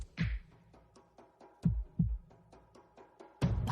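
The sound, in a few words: heartbeat sound effect in GeoGuessr broadcast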